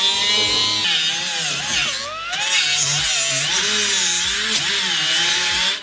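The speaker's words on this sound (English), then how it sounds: "Grind the floor pan cut line smooth." Grinder cutting line smooth on the floor pan of a Foxbody Mustang, a loud harsh continuous metallic whine that dips and rises in pitch as the tool bites into the sheet steel.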